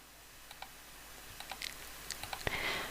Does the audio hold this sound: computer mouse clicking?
yes